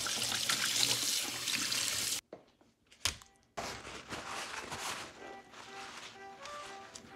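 Tap water runs steadily into a sink while a tilapia is washed, briefly cutting off and resuming with clattering, splashing handling noises as the fish is rinsed.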